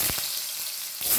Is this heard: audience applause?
no